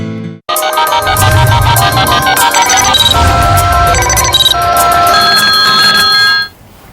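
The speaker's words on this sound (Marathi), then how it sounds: "आपल्याला नाशिकवरनं फोन येतोय" A telephone ringtone sounds for an incoming viewer call on a live TV phone-in show, a loud repeating electronic melody that plays for several seconds and then stops abruptly.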